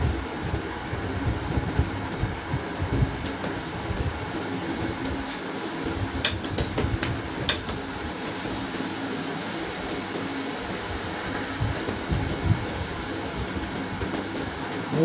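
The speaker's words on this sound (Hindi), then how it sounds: "और एक और पेज प्रिंट करता हूँ।" An HP LaserJet P1005/P1008/P1102 laser printer runs a test page with a steady mechanical whirring drone and a few faint clicks and ticks scattered through it. No one speaks.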